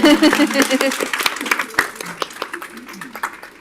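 A short burst of scattered clapping at a school board meeting that thins out, with voices talking over it.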